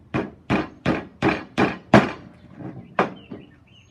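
A heavy hammer drives nails into a cedar fence picket birdhouse: about nine sharp, close wooden strikes land in a fairly regular rhythm, a few of them softer toward the end, with no talking.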